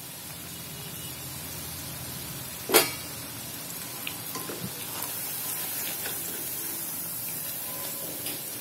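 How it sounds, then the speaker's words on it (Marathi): Upvas bhaji fritters deep-fry in oil over medium heat, a constant close sizzling hiss broken by one sharp clatter early on and faint scattered pops. "आपल्याला हे भजी गोल्डन ब्राऊन कलर येईपर्यंत भाजून घ्यायचे,"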